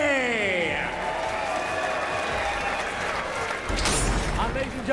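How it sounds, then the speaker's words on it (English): Crowd applause and cheering at a UCMMA 13 mixed martial arts event after a first-round knockout, heard as steady clapping from a large audience underneath a voice speaking over a loudspeaker. "a big round of applause to your runner-up, Earl Brown"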